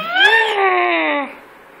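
A single drawn-out cat meow, close and clear, rising then falling in pitch before trailing off.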